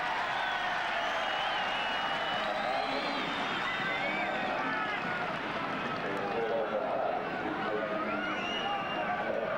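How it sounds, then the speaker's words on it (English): A football crowd at Brookvale Oval in 1988, for a Manly Sea Eagles match, roars and applauds a replacement player, a dense continuous wash of cheering and clapping heard from the stands under a commentator's talk. "I reckon that most of this crowd who saw him play in reserve grade will give him a huge reception"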